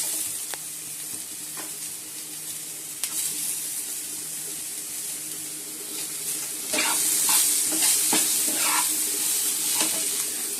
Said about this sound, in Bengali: এবার পেঁয়াজগুলো দিয়ে দেবো।